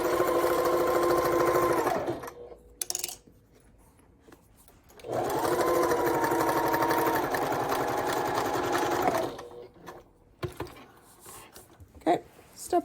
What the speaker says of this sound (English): The first time through, we're gonna sew at about 1/4 inch.